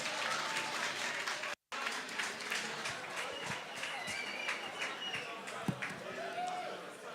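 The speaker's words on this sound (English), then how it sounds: "A round of applause once again for the Managing Director of Total Energies, Phumzile Mhlokwane." Audience applause at the MTN Bushfire 2022 festival launch: a continuous crowd clapping, moderately distant and textured, with a brief dropout and a few louder individual claps.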